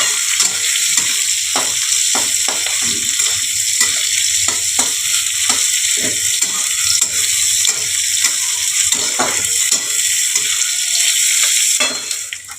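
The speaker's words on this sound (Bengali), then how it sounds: "পেঁয়াজটা আমাকে ব্রাউন করে ভাজতে হবে।" Chopped onions fry in mustard oil with whole cumin and bay leaves, giving a steady, bright sizzle throughout. Frequent stirring scrapes and taps cut through it at a close, even level, with no talking.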